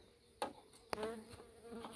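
Honey bees buzz around a 3D printed hive, faint and close, with a few individual insects zipping past in short swelling passes.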